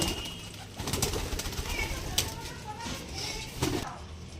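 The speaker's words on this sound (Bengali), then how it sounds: "এই সেই পায়রা আমার" Pigeons coo softly amid outdoor background noise, with a few brief clicks and flutters and some voices nearby.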